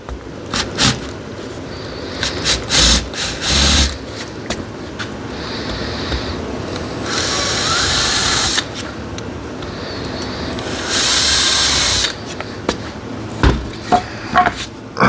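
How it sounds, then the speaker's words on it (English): A countersink drill bit bores into wood for screw heads, giving several short, close bursts of drilling that alternate with handling knocks and clatter, including two longer whirring passes in the middle. "I'm going to use a countersink to make sure the screw heads are below the wood surface"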